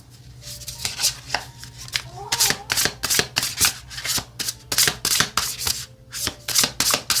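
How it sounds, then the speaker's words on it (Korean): Tarot cards being shuffled by hand during a reading, a run of crisp, rapid riffling bursts in a steady rhythm, close and fairly loud, with brief pauses between passes and no voice over them. "산 카드에 제가 타로 카드 한 장 보도록 할게요"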